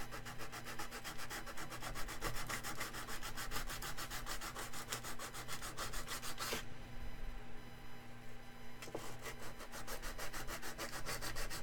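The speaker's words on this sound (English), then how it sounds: "Need some sandpaper." Sandpaper rubs back and forth in fast, even strokes, close and continuous, pausing briefly midway before the rhythmic scraping resumes.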